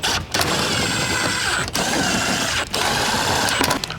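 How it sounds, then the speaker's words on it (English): Power tool driving screws with a 7mm socket into a Ford Bronco fender liner, a loud steady whirring drone broken by brief pauses between runs, close by and without talk. "we can start by putting these screws in with a 7mm socket."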